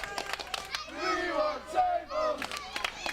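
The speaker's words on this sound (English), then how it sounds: "The crowd more than happy to see this" A wrestling crowd at a street fight match roars and cheers as tables are brought into the ring, loud shouting voices swelling together with some individual yells in a large indoor venue.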